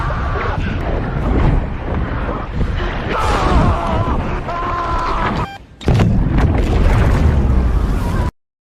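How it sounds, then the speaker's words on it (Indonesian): A bomb detonates underwater in the shark film Under Paris, a loud churning boom with rumbling water and wind-like roar, briefly cutting out before a second heavy surge of blast noise. "mengorbankan diri untuk meledakkan bomnya"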